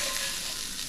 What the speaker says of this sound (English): Let's get these peppers and onions in here.